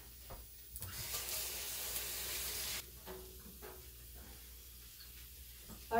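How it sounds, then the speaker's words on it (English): Cold tap water runs steadily over diced onion for about two seconds, a close, even rushing hiss in a home kitchen, followed by quieter handling clatter. "And I'm going to run it under cold water"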